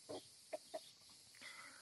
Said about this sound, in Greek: Είναι η πρώτη χήνα που πήρα ποτέ μου.